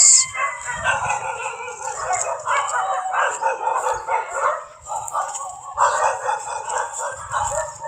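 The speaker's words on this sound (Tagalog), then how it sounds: "Daming aso dito guys." Several dogs bark, yip and howl together outdoors in a rural yard, a loud, overlapping chorus of rising and falling howls mixed with sharper barks that carries on throughout, with no talking.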